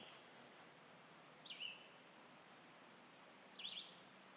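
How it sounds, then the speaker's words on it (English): Two short, bright red-winged blackbird calls ring out a couple of seconds apart, faint and somewhat distant over quiet woodland background hiss. "I think that's a red-winged blackbird."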